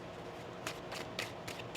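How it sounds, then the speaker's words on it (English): A tarot deck shuffled by hand during a card reading: a few quiet, brief riffling bursts spaced across a faint, steady background, with no talking. "One more shuffle here."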